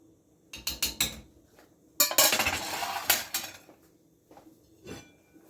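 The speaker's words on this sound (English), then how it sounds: "you can add some of this juice on top of your meat" A spoon clinks against the side of a cooking pot while juices are spooned over a chuck shoulder roast, with a few sharp metallic taps up front, then a longer burst of scraping and clattering, and softer knocks toward the end.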